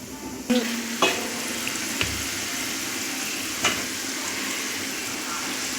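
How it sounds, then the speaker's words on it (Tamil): Potato french fries deep frying in hot oil, a steady dense sizzle throughout with a few sharp clinks or knocks, close and fairly loud, no voices. "கொஞ்சம் கொஞ்சமாக போட்டு நல்ல செவக்க வறுத்து எடுக்கணுங்க"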